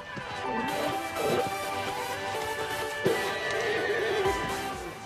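Horse whinnying loudly and close, with several shaky neighs over hoof shuffles and stable noise.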